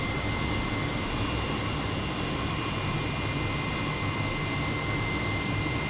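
An H135 helicopter hovers on autopilot in Microsoft Flight Simulator, a constant loud rotor and turbine roar with a steady whine, unchanging throughout and with no voices.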